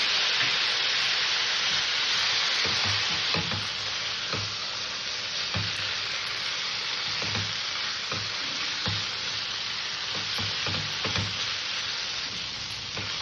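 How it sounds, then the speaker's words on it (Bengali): Poppy seed paste frying with potatoes on a low gas flame, a steady close sizzle with occasional soft scrapes and stirring clicks throughout. "তোমার পোস্তটাকে ভালো করে কষে নেবে"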